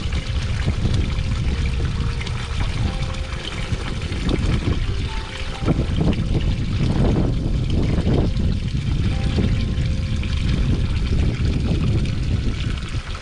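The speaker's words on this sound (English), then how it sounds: "Let you listen to the water for a moment." Water pours and splashes continuously from a fountain at the Andersonville memorial, a steady, fairly loud rushing wash heard up close with no talking.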